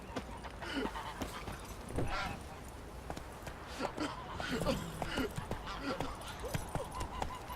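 Horse hooves clip-clop repeatedly in The Witcher 3 as the horse Roach bolts and panics in town, the steady hoofbeats running under a voice and busy game sounds.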